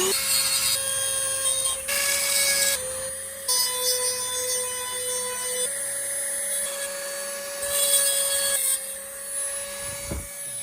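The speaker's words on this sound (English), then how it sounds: "So grinding these out, they do get hot." A power tool whines at a high pitch grinding sea shells, its tone shifting as it bites into the hard shell, grinding continuously with brief pauses in pitch.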